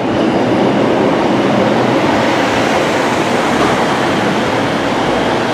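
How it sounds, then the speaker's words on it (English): An East Midlands class 156 diesel train departs Lincoln Central, giving a loud, continuous rumble and rail roar with faint clickety-clack, steady and close throughout. "This train here is the 1436 East Midlands train, class 156 departure to Leicester from Lincoln Central."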